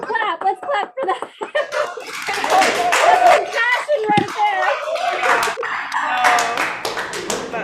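Applause from a concert audience during a spring student orchestra performance, loud, dense clapping that swells and keeps going steadily, with scattered voices mixed in under it.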